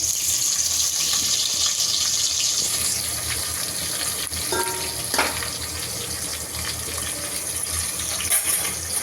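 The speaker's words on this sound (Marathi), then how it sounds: "कांदे छान ब्राऊन करून घ्यायचं आपल्याला." Onions and a bay leaf fry in hot oil, giving a steady, fairly loud hiss and crackle that runs the whole time, with no one talking.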